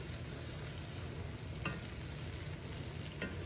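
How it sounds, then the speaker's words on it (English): Marshmallows being stirred into melted butter in a stock pot give a steady, soft wet churning hiss, with a couple of brief scraping strokes partway through and no talking. "So you're gonna constantly stir this down, coating everything in butter."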